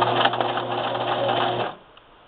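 A Brother LX3014 domestic sewing machine stitches monogramming fabric with a fast, steady mechanical whir up close, running continuously before stopping abruptly near the end.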